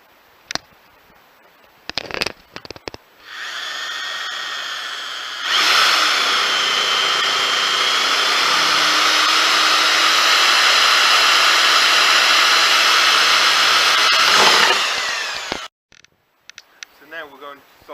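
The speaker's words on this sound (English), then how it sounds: "I'm now going to drill a hole for fitting the toggle switch." A power drill bores a hole for fitting a toggle switch on a jump starter build, running steadily at one pitch for about nine seconds, with brief clicks and handling noise before and after.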